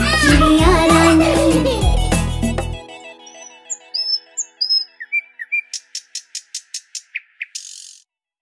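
Chirping and whistling bird calls in a Hindi nursery rhyme: a run of short, bright tweets follows a burst of music and continues on its own as a steady, rapid series.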